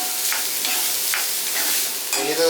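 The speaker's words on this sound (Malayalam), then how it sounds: "നമ്മുടെ സവോള ഒന്ന് വഴറ്റിയെടുക്കാം നല്ലതായിട്ട്" Onions sautéing in a pan, a close, continuous sizzle with a stirring scrape partway through and a brief clatter near the end.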